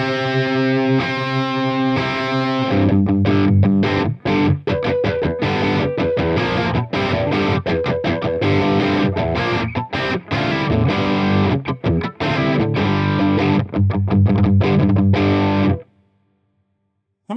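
Heavily overdriven electric guitar through a Soldano SLO Plus tube amp with a Fender Deluxe Reverb, loud and close, playing sustained chords and then choppy rhythmic riffs before stopping abruptly near the end.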